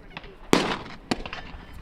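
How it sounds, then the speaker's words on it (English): Suppressed Glock 17 in short configuration fired with Omega36M suppressor and subsonic ammunition, two sharp muffled reports about half a second apart, close and moderately loud over faint background noise. "Omega36M on a Glock 17 in the short configuration with some subsonics."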